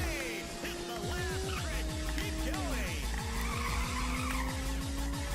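Car tires skid and squeal around a corner in the Ridge Racer arcade racing game, with long sliding tire whines over a steady, pulsing engine drone that runs the whole time at close, loud level.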